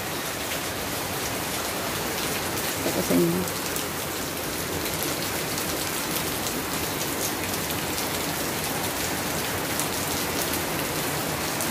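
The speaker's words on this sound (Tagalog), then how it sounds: "Ang lakas ng ulan." Heavy rain pours down steadily onto a flooded street, a dense, unbroken hiss that stays loud throughout, with a brief low voice surfacing near the start.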